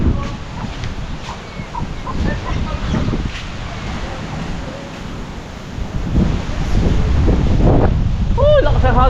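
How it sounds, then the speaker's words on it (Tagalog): Strong wind buffets the microphone in a continuous, loud roar with gusts, while people talk faintly underneath and a few bright chirping sounds come near the end. "Oh, lakas ng hangin."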